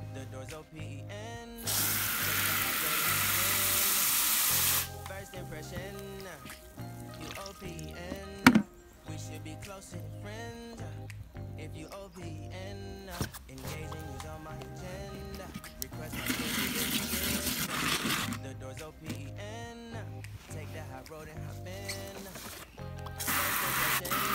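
A dirty pet bowl is scrubbed with a nail brush, dish soap and running water, with bursts of pouring and splashing water alongside brushing and occasional clinks while a person talks.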